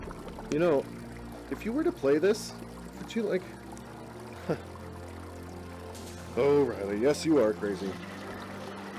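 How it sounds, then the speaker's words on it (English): Steady, faint trickling water runs in the background of the VR game Compound while someone talks and laughs over it. "there's like this constant trickling water noise in the background"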